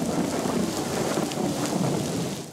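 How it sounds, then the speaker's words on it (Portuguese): Heavy rainstorm with thunder and lightning over a city causing flooding: a dense, steady roar of rain with low rumbling thunder rolling beneath it, continuous and fairly loud. "A chuva veio forte, com direito a descargas elétricas e trovoadas."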